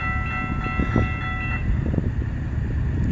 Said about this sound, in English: Here comes CN westbound train,